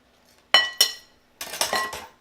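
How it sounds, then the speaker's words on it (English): Fresh garlic worked through a metal mincer in a home kitchen, giving two sharp clinks near the start, then a louder cluster of rattling metallic clatters and scrapes, close and alone with no talk. "We all know how much I love my mincer. So we mincing."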